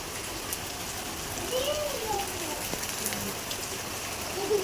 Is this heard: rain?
yes